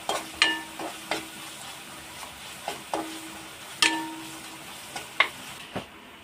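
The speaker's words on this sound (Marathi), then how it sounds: "आता याच्यामध्ये आपण चांगलं याला तेलामध्ये चांगलं तडफडू द्यायचं" Turmeric and spices crackle in hot oil for a veg cheese burger filling, with scattered sharp pops and spits over a low sizzle and occasional stirring knocks.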